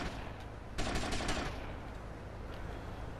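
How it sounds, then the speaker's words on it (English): A short burst of rapid gunshots is fired at a man in Grand Theft Auto Vice City, a loud close volley lasting under a second amid ambient street noise, with a couple of fainter pops after. "Let's give him a couple shots."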